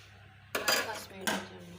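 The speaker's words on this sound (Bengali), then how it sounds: "হলুদ মরিচের গুঁড়োটা দিয়ে দেব। নেড়ে রেখে দেব" Turmeric and chilli powder are stirred into a pan of spices with two quick metal scrapes of a spoon against the pan, close and brief.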